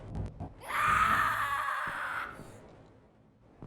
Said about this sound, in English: A little girl scream. High, piercing, and full of raw pain.